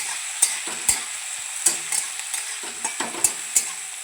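Cumin and mustard seeds splutter in hot oil as a spoon stirs the pan, making a steady sizzle broken by about a dozen sharp crackling pops and scrapes at an irregular rhythm, close and clear.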